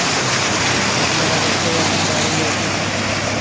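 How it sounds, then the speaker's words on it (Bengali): Heavy rain pours down in a dense, unbroken roar, loud and steady throughout. "দেখতে পাচ্ছেন অনেক বৃষ্টি, এদিকে যাওয়া যাবে না।"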